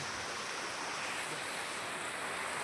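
Rainwater rushes through a village during the first rain of the season, a steady broadband wash of flowing water, even and unbroken, with no voices.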